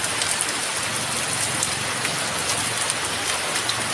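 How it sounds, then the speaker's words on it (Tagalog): Steady heavy rain pouring down in Ilocos Norte, a dense continuous hiss of drops hitting surfaces, with no voices. "lakas ng ulan dito sa Ilocos Norte."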